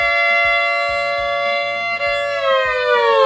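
A violin imitating an air raid siren, bowed string sliding from B up to E in sustained, wavering tones that rise and fall like a wailing siren, loud and continuous with a steady pulsing undertone.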